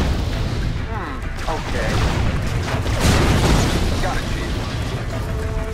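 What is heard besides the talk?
laser cannon firing and explosions in Mental Omega video game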